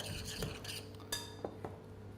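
Spoon stirring a chopped herb and vegetable mixture with coriander and parsley in a bowl in a home kitchen, soft scraping and clinking strokes close by, with a few sharper knocks.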